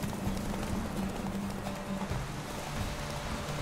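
Roach the horse gallops in The Witcher 3, a steady rapid clip-clop of hooves running continuously at close range over a low rumbling backdrop, with no talking.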